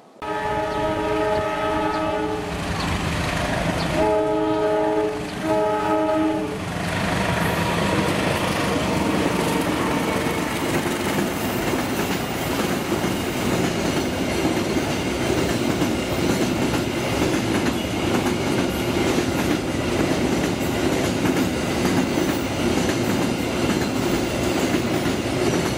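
An Indonesian train rounds a big curve near Cikarang, its horn sounding in two short blasts before a loud, continuous rumble and rail clatter as the cars roll close past.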